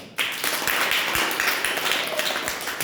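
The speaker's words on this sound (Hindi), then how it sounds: "जोरदार तालियां बजाओ" Children in a classroom clap their hands in applause, a dense, loud, continuous patter of many hands lasting a few seconds without speech.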